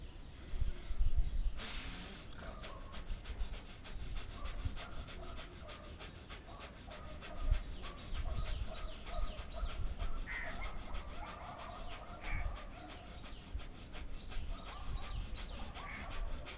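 Bhastrika yoga breathing practiced at home, a steady run of forceful, rhythmic exhalations with a rasping, rubbing texture that continues evenly for over fifteen seconds, close and fairly loud.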